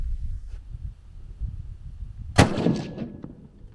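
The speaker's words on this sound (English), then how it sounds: "Go ahead and take the first shot." A single sharp, loud rifle shot from an old .30-06 hunting rifle being sighted in at a range, close by, with a brief ringing decay after a quiet stretch.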